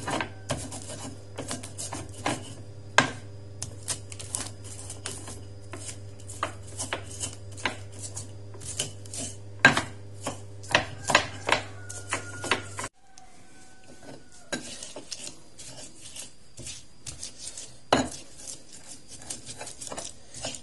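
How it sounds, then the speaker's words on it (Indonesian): Rhythmic pounding and grinding of spices in a mortar and pestle, repeated close-up strikes over a steady mechanical hum that drops out partway through. "kita akan ulek"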